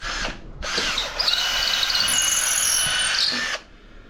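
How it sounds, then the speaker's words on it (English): Power drill boring holes in wood for a ship wheel repair, a loud steady whine lasting about three seconds after a brief start-up burst, close up with no talking. "when you're drilling holes in a circle like this, have a starting point"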